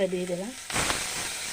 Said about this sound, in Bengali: মশলা ধোয়া জল দিয়ে দিলাম